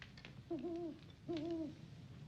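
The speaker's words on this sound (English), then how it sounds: "It's a night owl." An owl gives two distinct hoots in a quiet night setting, each a short wavering call separated by a brief pause.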